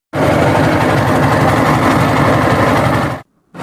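A passenger boat's engine on the river toward Sada Pathor in Sylhet runs loud and steady, with a close, rough drone that cuts off abruptly near the end.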